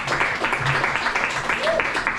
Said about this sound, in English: Better applause break than I will get at the end of the set